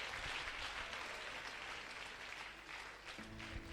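Church congregation applauding in acclaim of the Holy Spirit during a sermon, steady crowd clapping that fills the room and eases slightly toward the end, with a faint voice under it.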